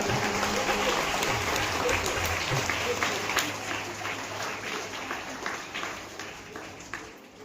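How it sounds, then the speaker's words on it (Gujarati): A school audience at a 2025 school entrance festival claps steadily for pupils who made the merit list, a dense, moderately loud applause with voices beneath it that tapers near the end. "જોરદાર તાળીઓ પાડીશું આપણે એમના માટે"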